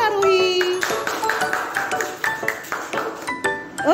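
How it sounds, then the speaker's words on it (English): Nursery-class children clap for a classmate in a burst of scattered, overlapping claps, with bright ringing tones and faint voices mixed in. "Clap for Arohi."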